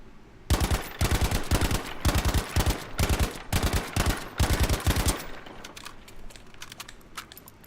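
Tap-fired gunshots from a Battlefield V video game at a shooting range ring out in rapid short bursts of a few rounds each, loud and close for about five seconds, then fade to quiet.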